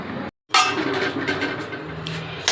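Mixed whole spices are stirred while dry-roasting in an empty kerahi, giving light clinks and scrapes of a utensil against the metal pan, briefly cut by a gap of silence before the clatter resumes.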